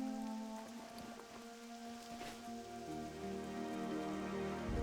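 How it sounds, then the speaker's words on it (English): Steady rain falls in World of Warcraft Classic, a continuous patter across a wide band that goes on throughout, with layered tonal game music sitting above it and no talk. "It's raining."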